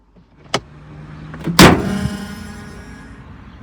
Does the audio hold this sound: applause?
no